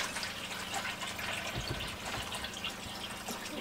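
A litre of cold water pours into a container aboard a narrowboat while elderflower champagne is being made, a continuous close gushing and trickling stream with no speech.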